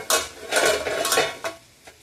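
A metal lid is lifted off a cooking pot of potato and prawn gravy, giving a few close clinks and scrapes of metal against metal.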